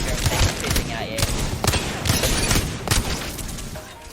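Rapid bursts of gunfire from a video game firing range, with repeated sharp shots crowding together into a loud, dense volley over about four seconds.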